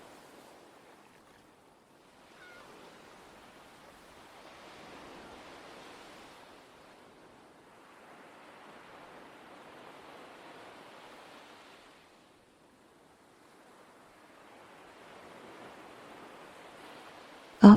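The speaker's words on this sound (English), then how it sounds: "blending with the sounds of the winter sea" Soft waves of a winter sea wash in and recede in slow, faint swells, each surge lasting several seconds with quiet lulls between, no voices present.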